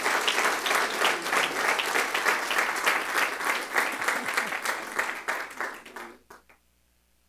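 A church congregation gives strong applause for Jesus. Dense, sustained clapping from many hands fills the room, then thins to a few scattered claps before fading out.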